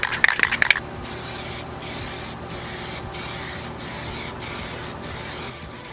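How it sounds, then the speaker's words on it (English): A spray paint can puts a coat on a Ford Mustang S197 tail light in a series of steady, loud hissing bursts separated by brief pauses, following a short burst of rattling from the shaken can. "you're going to shake the can again and spray it."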